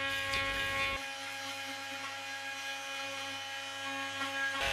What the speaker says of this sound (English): The AV70 RT 3 Max grout remover will remove grout and adhesive even in the most inaccessible corners.